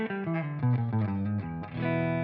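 Electric guitar on a neck pickup through a Friedman Pink Taco amp model into a 2x12 Creamback cabinet, picking a short melodic line with a slightly driven clean tone and ending on a sustained ringing chord.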